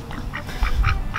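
A duck quacks several times in quick succession close by, short nasal calls repeating at an even pace in a horse-grooming setting, with low rumbling background noise.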